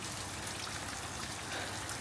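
Water spraying onto a tin roof to cool a tin-roofed house gives a steady, dense patter like rainfall, continuous and fairly loud across the whole short stretch with no voices.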